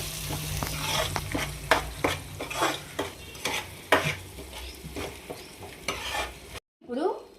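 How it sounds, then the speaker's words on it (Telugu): Onion paste sizzling in a pan with ginger as a spoon scrapes and stirs it in repeated strokes, close and steady, ending with a brief cut. "ఇప్పుడు ఆనియన్ పేస్ట్ వేసుకుంటున్నాను. ఇది కూడా కొంచెం మంచి ఫ్రై అయ్యేలాగా చూసుకోవాలి."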